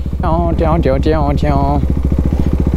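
A motorcycle is ridden roughly along a wet, flooded road. Its close, loud engine keeps a steady pulsing thrum throughout, and a voice sounds over the first half.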